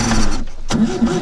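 Engine cranking and catching with the throttle held, a loud, close mechanical churn that breaks off briefly, then resumes with a rough, pulsing idle.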